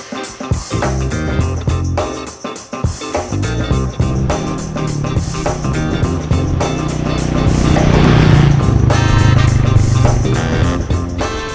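Royal Enfield Meteor 350 motorcycle out on a ride, a continuous loud engine drone with wind rush that swells toward the end, heard close from aboard the bike with no talking.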